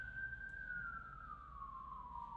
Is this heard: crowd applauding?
no